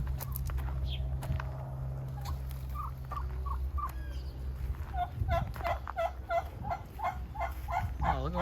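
Turkeys gobble at a farm setting, a rapid run of rippling gobbles rising in the second half over a low steady hum, with a few scattered earlier calls and no talk.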